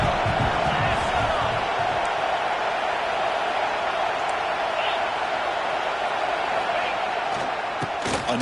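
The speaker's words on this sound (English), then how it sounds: "the crowd coming to life here, trying to help this defense down in the red zone" A stadium crowd at a televised college football game roars steadily as the defense is pushed back into the red zone, a dense, continuous wash of cheering and noise from a large audience.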